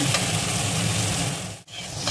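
A spice mixture frying in a pan for raw banana kofta curry gives a loud steady sizzle close by, broken by a brief drop in sound before the frying resumes.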